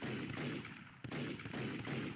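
A .44 Magnum long cannon revolver fires in a Roblox Anomic game, with heavy booming shots that blend into a dense, continuous roar. A brief dip comes about midway before the firing resumes, loud and close throughout.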